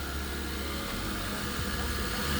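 A Lexus IS300 engine idles steadily just after a timing belt replacement, giving a smooth, continuous low hum close by with no talk over it.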